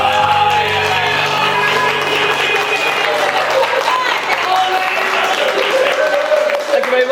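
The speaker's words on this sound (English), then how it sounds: "let's give Lee a massive round of applause" Audience applause for a seated guest named Lee, a loud, steady wash of clapping sustained across the whole stretch with crowd noise mixed in and no clear pauses.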